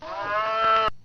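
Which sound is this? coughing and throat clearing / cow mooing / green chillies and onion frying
cow mooing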